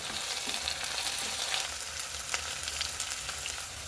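Chopped green chillies and curry leaves frying in hot oil in a pan for a boat-style seafood curry, a steady close crackling sizzle with occasional scraping stirs.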